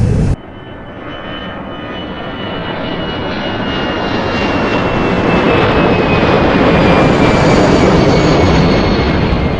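A loud airplane engine drones steadily in Team Fortress 2, rising slowly in pitch and intensity over about nine seconds after an abrupt start.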